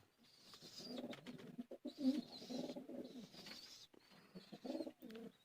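Teddy pigeons cooing close by in a run of soft, throaty rolling coos that swell and fade repeatedly, with brief pauses, and no talk over them.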